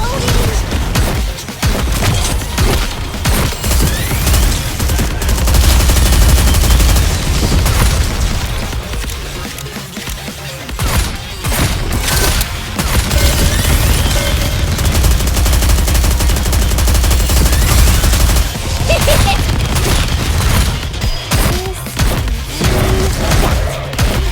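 Dense machine-gun fire and heavy gunshots roll almost continuously through a NIKKE video game battle, loud and close, with booming impacts and a brief lull midway.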